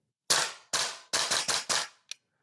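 Gas blowback airsoft rifle, a Vorsk Salvo Précision fed from a Nuprol magazine, fires six sharp, loud shots in an uneven rhythm, followed by a brief small click. No voices are heard.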